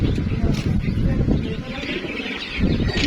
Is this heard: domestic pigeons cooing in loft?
yes